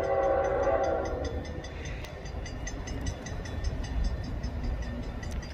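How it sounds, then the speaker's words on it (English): Norfolk Southern northbound intermodal freight train 222-27, running from Atlanta to Charlotte with BNSF power, rolls past as a continuous low rumble of wheels and cars, with a brief horn-like tone near the start. "this is NS 222-27, northbound intermodal from Atlanta to Charlotte"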